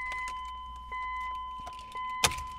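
Keys jangle as the key is pulled from the ignition of a 1997 BMW Z3 roadster, small metallic rattles and clicks over a steady in-car hum, ending in one sharp jingle near the close.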